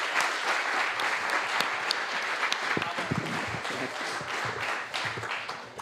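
An audience at the EuroTeQaThon competition at CTU Prague claps for a competing team, a dense, loud burst of applause that carries steadily throughout, with a voice speaking over it.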